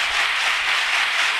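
A packed group of engineering students at BN College of Engineering, Pusad, claps hard and continuously, a loud, dense, even rattle of many hands with no talking over it.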